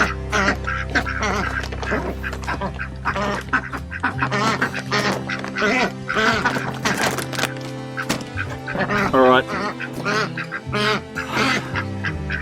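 Ducks quack loudly and repeatedly, a busy overlapping chorus close by, with a brief spoken word among them.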